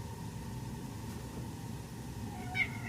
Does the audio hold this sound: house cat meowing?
yes